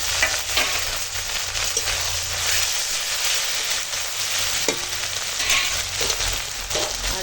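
Onion frying in a pan as ginger-garlic paste and chopped tomato go in, a steady loud sizzle with occasional stirring scrapes, close and continuous with no talking.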